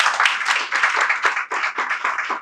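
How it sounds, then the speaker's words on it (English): An audience at a 50th birthday celebration bursts into quick, dense applause for the guest of honour's mother, a close, bright patter of many hands clapping steadily without pause. "I was going to say, let us give her a round of applause, but she actually did that before I could say it"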